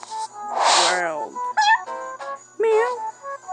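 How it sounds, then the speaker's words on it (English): A cat gives a few short meows close by, spaced across a few seconds, amid a quiet indoor setting with mobile game sounds. "Meow."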